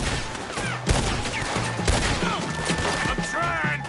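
Gunfire during a wagon shootout in Red Dead Redemption 2, with repeated sharp shots cracking over a busy battle bed and brief shouting voices.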